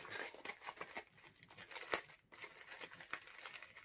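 Packaging for a diamond painting kit, holding a 40x50 canvas, diamonds and a toolkit, is unwrapped up close, with steady crinkling and rustling, several sharper tearing bursts, and brief crunchy handling noises throughout.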